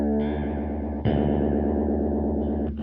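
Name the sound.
lush 80s-style modulation effect pedal at high speed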